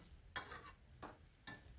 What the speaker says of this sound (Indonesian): Lanjut diaduk-aduk ya supaya bumbunya itu lebih meresap ke dalam tahunya